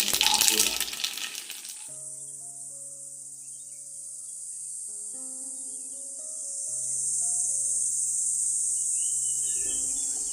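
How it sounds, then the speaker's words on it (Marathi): Crickets chirp in a steady, high, continuous trill on a rainy-looking morning outdoors, moderately loud and close, with a few soft tonal sounds underneath. "म्हणजे आजही रातकिड्यांचा भरपूर असा आवाज होता."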